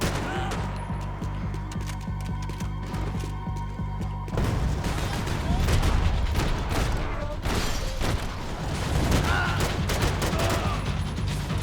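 Rapid gunfire bursts in the video game Max Payne 3 during a livestream, dense and continuous with loud cracks and rumbling impacts, growing heavier midway.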